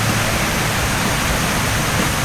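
Steady, loud broadband roar of a waterfall on a mountain trek near an ancient campsite, filling the whole moment without pause and with no voices.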